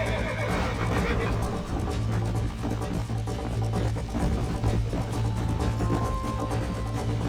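A horse in the PC video game Red Dead Redemption neighs over its galloping hoofbeats on a road, loud and continuous, with a voice speaking over it.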